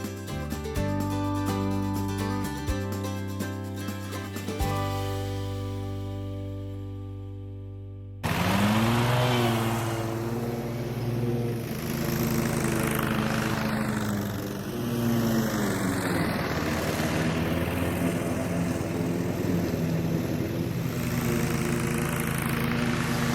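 A lawn mower engine drones steadily while mowing an overgrown baseball field with the mulching flap closed, loud and continuous, with a shift in tone partway through as the engine load changes.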